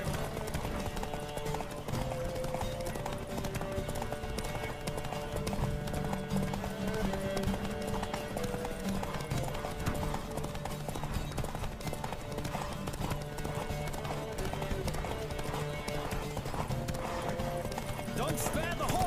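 Rhythmic hoof clip-clop of a horse galloping in The Witcher 3: Wild Hunt on PS4, steady and fairly close, with a bed of music and voices running underneath.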